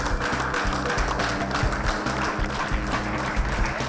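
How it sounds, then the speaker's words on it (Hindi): A studio audience claps steadily for a few seconds to welcome a guest onto an Indian TV skills competition show. The applause is sustained and even, with no speech over it. "तो तालियों के साथ स्वागत किया जाए।"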